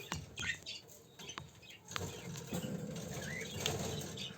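Budgerigars scuffle in a cage, with bursts of flapping wings, scratchy chirps and patter close by, coming in uneven flurries.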